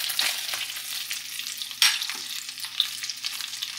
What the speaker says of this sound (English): we're just going to saute this until the onions are soft